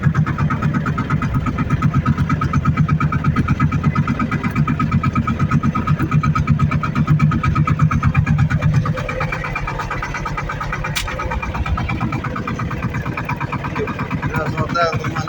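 A tractor engine works steadily under load while its modified hydraulic hitch is raised. The close, rumbling drone holds an even pulse throughout and eases slightly toward the end.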